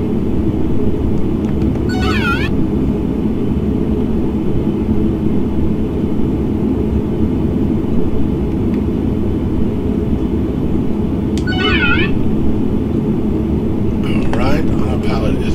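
ATR72-500 turboprop engines in the Prepar3D V5 flight simulator make a steady, loud cockpit drone with a low rumble through the whole stretch. A few brief tonal chirps rise over it.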